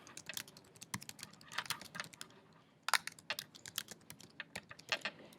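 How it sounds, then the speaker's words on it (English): Quick, irregular clicking of computer keyboard keys as text is typed, close and crisp, with short pauses between bursts of keystrokes. "then we can type in the text"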